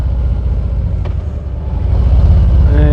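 Harley-Davidson Ultra Limited motorcycle on a short ride, a loud, low engine rumble with road and wind noise that builds slightly toward the end, no speech.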